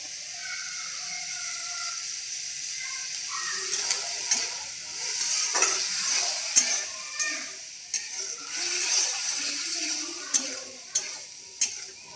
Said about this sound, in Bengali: তো মটর দেখো হালকা ভাজা হয়ে গেছে।